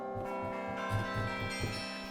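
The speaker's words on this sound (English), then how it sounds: "those guys from Project Sam, they sampled a bell tower." Sampled bell-tower bells from a Project Sam library ring in a dense, sustained wash of overlapping tones with soft low strikes pulsing underneath, steady and full with no speech.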